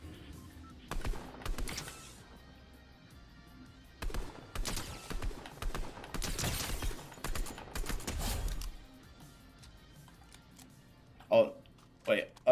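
AUG rifle bursts in a Fortnite no-building match, rapid clusters of shots coming in several volleys with pauses between, a couple of sharper close bangs near the end.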